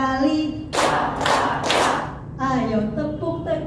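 A group claps together in a classroom clapping game, three bursts of hand claps in even rhythm, set between stretches of laughing voices.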